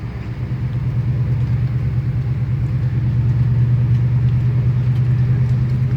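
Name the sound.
1975 Chevy C10 Silverado truck engine driving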